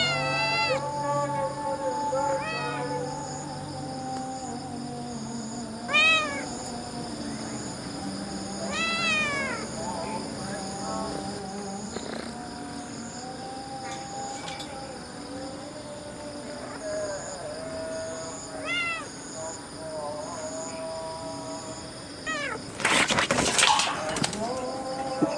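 Cats meow repeatedly in a harbour setting, rising yowls and caterwauls scattered through the clip alongside a droning chant-like call and bird calls, with a louder burst of noise near the end.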